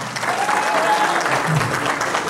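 A live show audience in Saginaw claps steadily for a background singer, dense applause filling the room at even loudness throughout, with faint voices mixed underneath.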